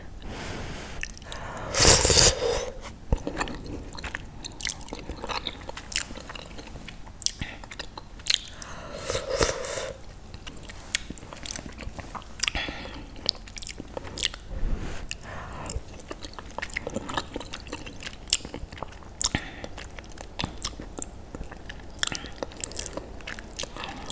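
Someone eating Goya Salvadorean beans with brown rice close to the microphone makes soft, wet chewing and biting sounds that repeat throughout, with a few louder crunches and moist squishes and no talking.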